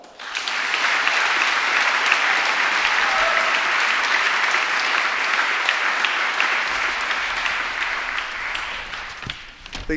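Steady, dense applause from a large audience at a university graduation ceremony fills the space, continuous and loud before tapering slightly at the end.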